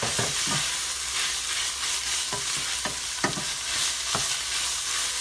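Chopped garlic sizzles steadily in a hot pan as a spoon stirs it in several distinct scraping strokes, close and clear, with no talking.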